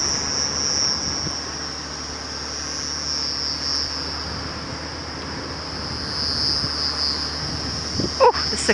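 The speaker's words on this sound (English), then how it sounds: "The cicadas are unbelievably loud tonight." A steady, shrill drone of cicadas fills the night air at sunset on a safari drive, loud and unbroken throughout, with a couple of faint clicks near the end.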